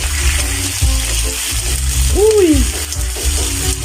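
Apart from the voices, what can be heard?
shrimp frying and sizzling in a pan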